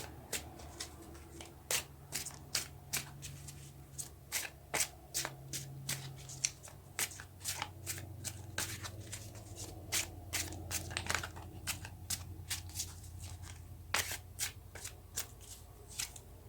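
Tarot cards shuffled and drawn by hand: a long run of crisp, irregular riffling snaps and flicks, close and fairly loud, with no talk over them.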